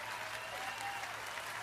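An audience at a George Carlin comedy show applauds with steady, faint clapping that carries on evenly throughout, heard distant as if from a recording.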